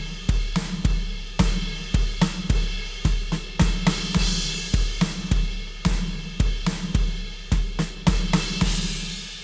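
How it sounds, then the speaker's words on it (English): A drum kit plays a slow groove for a worship song: a doubled kick drum under a dotted-eighth snare rhythm. The sharp, evenly spaced hits are close and clear throughout, with no talking. "we're going to play the dotted 8th rhythm on the snare"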